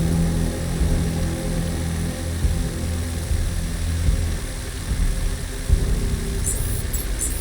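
A surveillance drone in Sniper Ghost Warrior Contracts 2 hums with a steady propeller drone and engine-like whir, close and continuous throughout, with faint clicks near the end.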